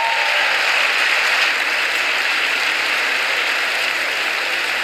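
A large audience at a State of the Union address claps and applauds loudly and steadily, a dense, even patter that holds the whole time with no voices over it.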